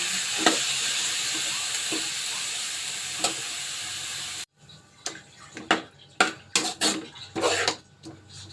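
Chicken for adobo hits a hot pan with a loud, steady sizzle, then gives way to sharp clinks and scrapes of a utensil stirring against the pan.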